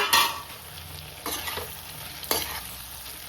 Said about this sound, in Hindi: तो ये भुन गए टमाटर, अब मैं उसमें डाल दूँ अपनी अरबी